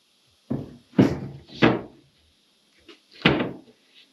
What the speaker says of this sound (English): and then close the door